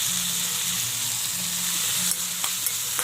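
Food for chicken kuzhambu sizzles and fries steadily in a hot pan, with a few scraping stirs toward the end; no voices.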